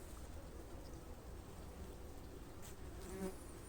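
A steady, faint buzzing hum of many honey bees in an open hive, close and continuous, with no voices.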